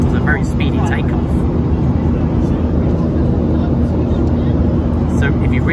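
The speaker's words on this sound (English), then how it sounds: "We are just in the air now. And for a 737-300 series aircraft, that was a very speedy takeoff." Jet2 Boeing 737-300 climbing just after takeoff from East Midlands, heard from inside the cabin as a loud, steady engine roar with a constant hum, and a voice talking over it.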